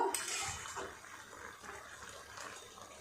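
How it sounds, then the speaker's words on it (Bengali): Half a cup of water poured into a freshly rinsed jar used for grinding ginger in a kitchen, making a soft, fairly faint splash and trickle near the start that fades to a quiet wash. "এই জারটা ধুয়ে খুব অল্প একটু 1/2 কাপ মতো জল দিয়ে দিলাম।"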